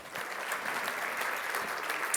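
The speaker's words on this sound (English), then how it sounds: "Give her a round of applause." An audience at the Ocean Summit in Gothenburg gives a brief burst of warm, dense applause, steady clapping from many hands with no voices over it.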